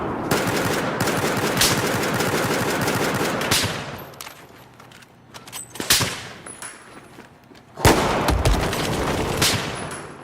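Assault rifle fire in Battlefield 4, long sustained automatic bursts, then a quieter gap broken by single sharp shots and a loud impact, before another heavy volley of rapid fire resumes.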